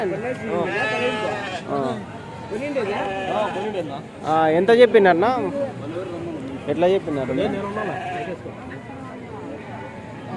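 Goats at a weekly sheep and goat market in Kadiri, bleating now and then in wavering cries mixed into lively nearby talk, with a louder cluster of calls partway through.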